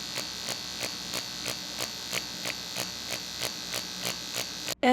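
A permanent makeup machine buzzes steadily during an ombre brow procedure, with a regular pulsing rhythm of short repeated strokes, close and fairly loud, ending in a brief handling noise.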